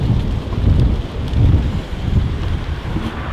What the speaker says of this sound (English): A bit windy, I'm afraid.